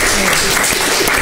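A studio audience at a live Malian midday television talk show bursts into loud, close applause, a short dense burst of clapping that lasts just over a second, with a voice mixed in.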